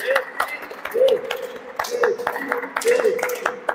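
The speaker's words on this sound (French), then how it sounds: "Can we clap for Jesus?" A church congregation claps in a steady rhythm, the claps landing about once a second beneath a voice that speaks or sings over them.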